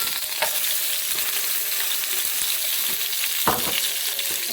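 Two bay leaves, three pieces of cinnamon and three cardamom pods sizzle in hot oil, a steady crackling fry with a couple of sharper pops and light stirring sounds.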